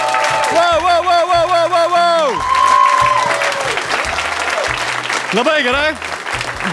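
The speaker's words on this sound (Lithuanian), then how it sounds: "Plojimai aktoriam!" Applause from a comedy club audience for improv actors rises as a dense wash of clapping under loud, excited talk and exclamations over amplified voices.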